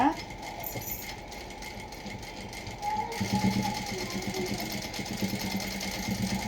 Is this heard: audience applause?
no